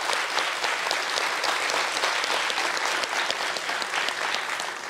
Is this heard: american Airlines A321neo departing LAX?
no